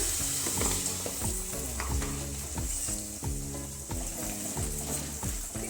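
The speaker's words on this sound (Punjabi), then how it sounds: "ਆਲੂਆਂ ਨੂੰ ਆਪਾਂ ਉਦੋਂ ਤੱਕ ਭੁੰਨਾਂਗੇ ਜਦੋਂ ਤੱਕ ਇਹਨਾਂ ਦਾ ਕਲਰ ਨਹੀਂ ਚੇਂਜ ਹੋ ਜਾਂਦਾ" Potatoes fry in hot mustard oil with a loud, dense, continuous sizzle, broken by a steady rhythm of spatula scrapes and stirring strokes close by.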